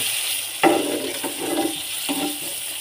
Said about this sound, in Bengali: আমার লাউ ভাজি হয়ে যাচ্ছে আর একটু সিদ্ধ হতে হবে